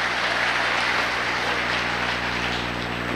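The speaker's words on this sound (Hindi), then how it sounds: "उनके लिए एक धन्यवाद के रूप में एक जोरदार तालियां" Audience applause after a speech at a Safe Shop diamond-rank recognition event in Gopalganj, Bihar: a dense, steady wash of many hands clapping, loud and sustained throughout.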